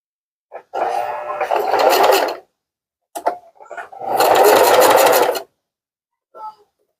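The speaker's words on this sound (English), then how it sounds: "finger press this seam and then sew as close to the edge as possible" A sewing machine stitches a seam close to the edge of a fabric scrunchie in two loud bursts of rapid whirring, each about one to two seconds long, with brief quiet gaps and small clicks between them.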